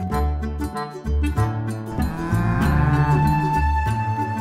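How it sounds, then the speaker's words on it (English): An Ongole cow, a breed from Ongole in India, gives a loud, drawn-out moo that swells and holds, close and clear with no talking. "Ongole cow originates from Ongole in India."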